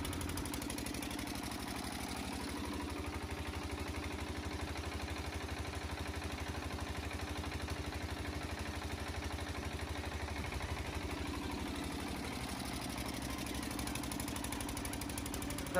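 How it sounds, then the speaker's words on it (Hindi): A 5 KVA generator driven by an 8 HP engine runs under an air-conditioner load, giving a continuous, even mechanical drone with a steady low hum and no change in pace throughout. "हमारा जो 8 HP का इंजन है और 5 KVA का हमारा जनरेटर वो आसानी से एक एसी का लोड ले सकता है"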